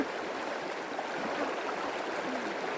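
Flowing water rushes in a steady, close, continuous stream with no breaks or other sounds.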